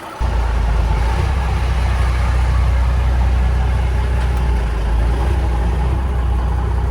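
A Peterbilt 359 truck engine fitted with a new PDI turbo runs steadily and loudly at close range, a continuous deep rumble with no talk over it.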